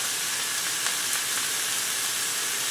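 Thick steaks sizzle steadily in a hot pan, a loud, continuous broadband hiss with no talking over it.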